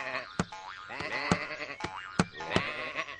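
Cartoon sheep in a children's tractor farm show bleat over and over, several overlapping wavering baa calls with sharp tonal onsets about every half second, close and clear over a light musical backdrop.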